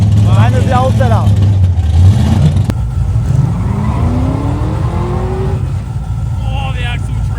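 A supercharged car skids at Summernats, with tyre squeal and a loud engine roar running steadily throughout. Several people talk over it nearby.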